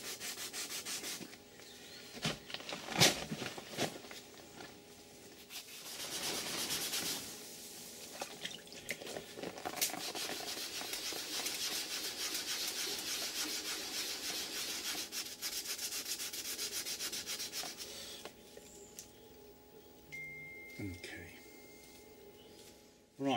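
Hand sanding a run in automotive clearcoat with fine-grit paper, a steady close rasping rub that continues for most of the stretch, with brief pauses and a few sharper scrapes.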